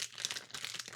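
A plastic bag holding a toy hammer crinkles and rustles as it is handled up close, quick dense crackles throughout, no talking.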